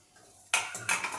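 Green pea filling being mixed with pomegranate seeds and coriander in a dish, heard as a few close, bright clinks and scrapes of a spoon against the dish in two or three quick bursts.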